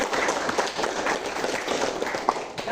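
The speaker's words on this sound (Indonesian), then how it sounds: "Tepuk tangan." Students clap together in a classroom, a short burst of lively, uneven applause filling the room at close range.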